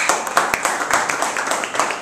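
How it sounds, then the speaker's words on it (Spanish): A small group in a university chemistry class claps by hand, a brisk, uneven patter of individual claps close by, fairly loud and lasting about two seconds. "Un fuerte aplauso, biólogo."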